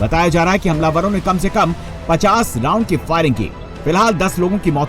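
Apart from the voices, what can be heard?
No everyday noise stands out behind the speech.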